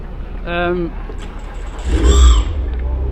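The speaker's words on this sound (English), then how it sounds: "And we have Dan Lloyd, looks like he's one of the last cars to get out." TCR UK touring race car at Oulton Park pulling out of the pit lane, a loud engine swell rising near the end of a short stretch of talk.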